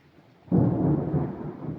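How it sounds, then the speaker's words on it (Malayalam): A sudden loud roll of thunder breaks in and keeps rumbling deeply, with faint rain hiss underneath. "ഭയങ്കരമായിട്ട് ഇടിമുഴങ്ങുന്നു"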